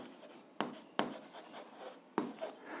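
A pen scratches across paper while an algebra equation is written out, with three sharp stroke onsets and steady scratching between them, close and alone.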